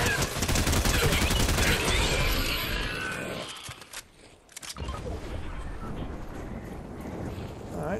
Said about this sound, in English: oh, I heard gunfire